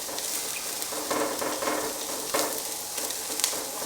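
Onions sweating down in a pot give a soft, steady hiss of sizzling with faint crackles and a few light stirring scrapes, close and continuous, with no one talking.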